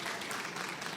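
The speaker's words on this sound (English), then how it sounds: "Let's give her a round of applause." A conference audience claps for a speaker in a short, steady burst of crowd applause.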